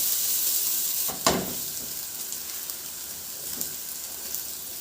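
Garlic sautéing in hot oil in a pan on the stove, a steady close sizzle with a brief louder burst of crackle, no voices.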